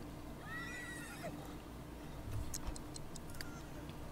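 A horse in The Sims 3 Pets lets out a clear whinny with a rising and falling pitch, followed by soft hoof clops and ticking game sounds over a low steady background.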